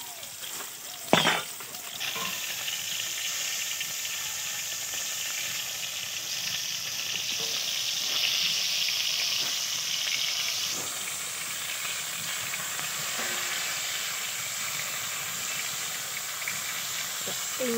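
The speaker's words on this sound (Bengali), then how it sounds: "এবারে মাছগুলো ভাজা হবে।" Rupchanda pomfret fish fry in hot oil in a pan, giving a steady, close sizzle throughout, with a sharp utensil clatter near the start and occasional faint knocks.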